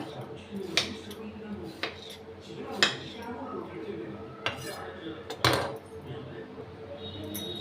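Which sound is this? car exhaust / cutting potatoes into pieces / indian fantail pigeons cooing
cutting potatoes into pieces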